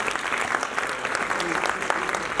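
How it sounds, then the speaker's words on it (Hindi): A crowd applauds steadily, a dense wash of clapping that stays even throughout. "गौरव रघुवंशी, जो हमारे बीच में, इनके लिए ताली हो सकती है।"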